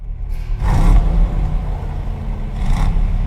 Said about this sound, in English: Proper V8 burble.